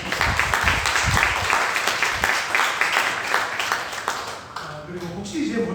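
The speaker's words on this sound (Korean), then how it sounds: "우리 큰 박수로 감사합니다" A church congregation breaks into hearty applause, a full crowd of clapping that runs for several seconds before dwindling, with a voice speaking over it as it fades.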